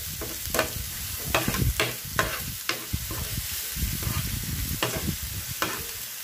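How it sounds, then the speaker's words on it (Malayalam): Ingredients for a mango pulissery curry sautéing in a pan, a steady sizzle with repeated sharp scrapes and knocks of the stirring spoon at an uneven rhythm. "ഇതൊന്ന് നന്നായിട്ട് മൂപ്പിച്ചെടുക്കാം."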